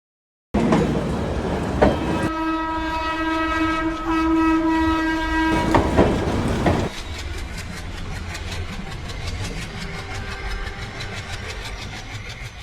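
The 12381 Poorva Express pulls away with a long, loud horn blast, then its engine rumbles and wheels clatter in a steady, close clickety-clack as the carriages roll out.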